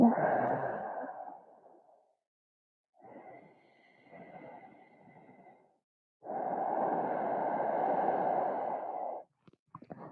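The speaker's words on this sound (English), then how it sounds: "That sounds like the ocean, right? A lot of people call it ocean breath." Three slow, breathy ujjayi exhales through the nose with a soft hissing, ocean-like rush, the last one longest and steadiest, heard up close with pauses between.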